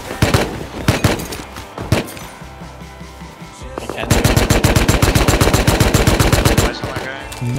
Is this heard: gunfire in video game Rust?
yes